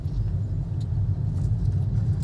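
A Hyundai Nios car moves off in third gear as the clutch is slowly let out. A steady, low engine and road rumble is heard from inside the cabin with no talking.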